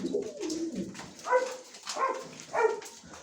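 Purebred pigeons coo repeatedly while feeding, close by and moderately loud, in a few soft rolling phrases with no talking.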